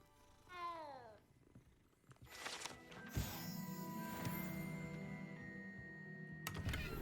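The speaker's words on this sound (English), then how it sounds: "There's a lot of cats in here." Cats meow in Hogwarts Legacy: one clear, sliding meow up front, followed by a busier, softer stretch of in-game ambience, with no talking.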